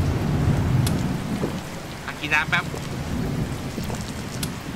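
Steady rain hisses through a truck-driving game, The Slaverian Trucker, as someone talks over it; no distinct thunderclap stands out in the short stretch.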